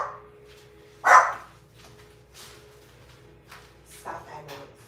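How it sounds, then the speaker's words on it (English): A pet dog named Jersey barks at a workman indoors, one loud sharp bark early, then quieter yips and barks scattered through the rest, with someone talking nearby. "Jersey is barking like a madman"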